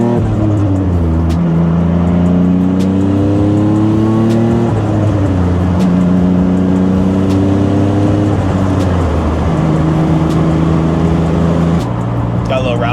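A turbocharged Nissan 350Z accelerates through gears from inside the cabin, its engine note rising in repeated sweeps with brief dips at each shift, loud and continuous throughout.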